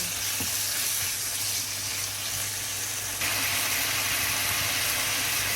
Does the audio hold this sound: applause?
no